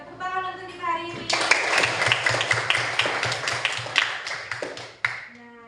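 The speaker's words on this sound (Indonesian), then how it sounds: "tepuk tangan untuk kita hari ini" Children at an Indonesian primary school clap their hands in a quick rhythmic pattern of sharp taps, following a brief moment of sung or spoken voices and ending with a voice at the close.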